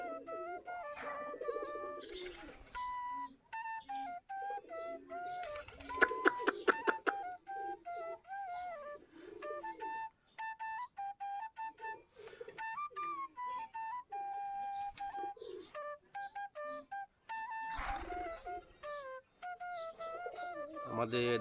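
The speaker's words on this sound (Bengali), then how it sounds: "আমাদের দেশি গিরিবাজ কবুতর" Native Giribaj pigeons in a loft cooing repeatedly, soft throaty calls overlapping in rhythmic phrases close by, with occasional brief wing flutters and clatter between them.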